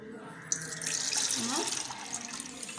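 Tap water runs into a pot or container for cooking pasta in a home kitchen, a steady rushing stream building after a brief clatter, close and fairly loud, with a voice speaking over it.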